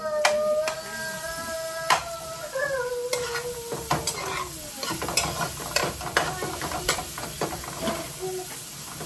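Garlic hits hot oil in a pan ahead of onions and pepper, crackling and hissing up close with sharp utensil clacks and stirring scrapes, while a voice briefly hums over the frying.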